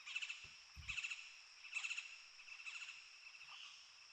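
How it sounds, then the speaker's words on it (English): Birds chirp and trill at sunset at a pyramid site in Guatemala, repeated bright calls over a steady insect or frog drone, with a few soft low thumps early on and no talking. "Beautiful bird sounds."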